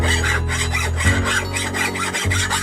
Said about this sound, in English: Match up your angle, and you're just going to file across like this.